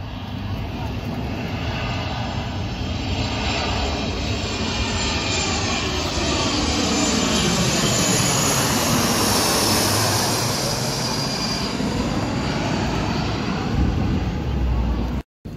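A Pioneer Australia BAE 146-200 four-engine jet lands at night at an airport, its loud, sustained engine roar and whine building and sweeping past, steady throughout until an abrupt cut at the end.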